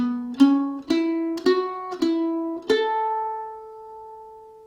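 A mandolin picks a short ascending lick of five or six bright, ringing notes spread across the fretboard, the last note left to sustain and fade, played alone and fairly quiet.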